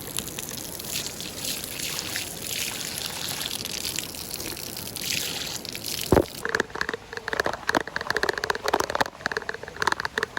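Water runs constantly from a village spout, a continuous splashing gush close by, with sharper crackling and spattering toward the end.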